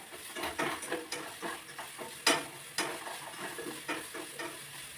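Onions sautéing in a pan for a chicken curry, a soft sizzle under repeated scraping and stirring strokes of a utensil, with a louder clatter partway through, heard close with no talk.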